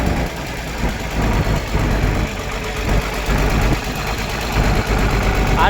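An excavator engine, a 220 LC-style machine restarted after blade adjustment, runs steadily at close range with a rough, knocking idle that holds loud and continuous throughout.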